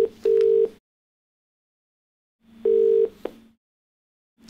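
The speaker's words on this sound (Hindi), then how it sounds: "चलिए आगे बढ़ते हैं और फोन लगाते हैं अपने अगले कॉलर को।" A telephone line gives two steady tone bursts, each about half a second long with a brief click, separated by silence, as a Hindi TV call-in show dials its next caller.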